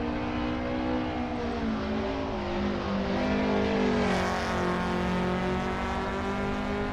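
A tuned Toyota AE86 in a racing video game, on the Nordschleife, revs and climbs through the gears, its exhaust note droning loud and steady as it accelerates.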